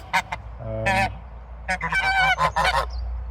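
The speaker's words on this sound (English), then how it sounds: "So that's the geese." Geese honk repeatedly at close range, a burst of loud overlapping calls in quick succession.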